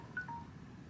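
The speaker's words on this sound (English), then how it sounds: "Phone timer is going off because the soup was about ready." A phone timer alarm sounds beside a campfire during truck camping in Iowa: two brief, faint electronic beeps over quiet low background noise.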